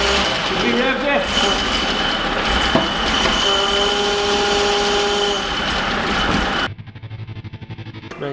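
BMW E36 Compact with a swapped M52 Double Vanos 2.8 straight-six, running loud and steady with sustained engine tones for several seconds, then cutting to a quieter idle near the end; some voices are mixed in.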